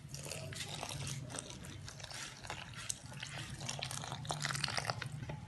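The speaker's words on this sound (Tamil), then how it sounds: "இப்போ ஒரு கிளாஸ் டம்ளர் வந்து எடுத்து கலக்க போகிறோங்க" A glass tumbler stirs a liquid mixture for a homemade North Indian sweet, making close, busy sloshing with quick clinks and wet splashes throughout and no one speaking.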